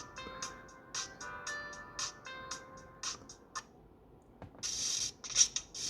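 Music plays from the small built-in speaker of an SW36 smartwatch streaming from a music app: thin, tinny melodic notes with light plucked accents, close by and fairly quiet, getting brighter toward the end.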